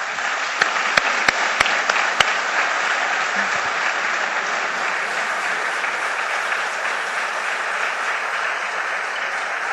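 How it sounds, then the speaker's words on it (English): Audience applause welcoming Herb Kelleher, Southwest Airlines leader, at a Notre Dame business event: sustained loud clapping from a large crowd, steady throughout, with a few sharp individual claps near the start. "Keep clapping."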